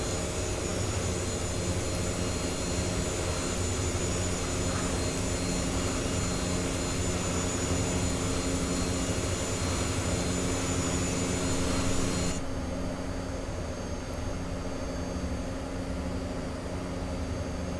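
Constant whine and roar of MD80 jet airliner engines in the X-Plane 11 flight simulator, a steady drone that drops a bit in brightness partway through, with no talking.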